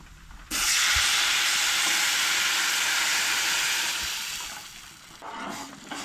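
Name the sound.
hot water poured into roasted semolina (rava) in a pan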